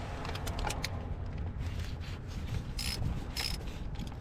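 Ratcheting wrench loosening bolts on the thermostat housing of a Chevy Cruze, a steady run of close mechanical clicks and rubbing metal with a few sharper bursts, no talking.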